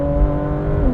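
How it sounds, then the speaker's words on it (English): A Porsche 992 911 GT3 RS's naturally aspirated engine revs, a loud, steady tone that shifts pitch near the end of the brief burst. "the sound coming from that engine."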